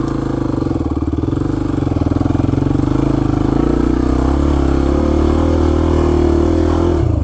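A Honda XR250 dirt bike engine drones loud and close while riding, holding a steady, rapidly pulsing mid-pitched thrum with slight rises and falls in revs for several seconds.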